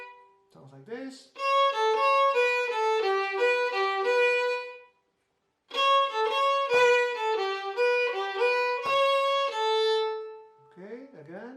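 An Asturian bagpipe plays two ornamented melodic phrases over a steady drone, with a brief silent break between them, featuring a note used on older bagpipes; a voice is heard briefly at the start and end.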